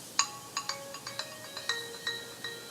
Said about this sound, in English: It's like the default ringtone on my phone.